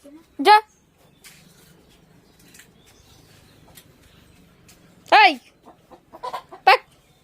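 Chickens around a rural home give a few loud, sharp clucking calls, one near the start and two more toward the end, with quiet stretches between them.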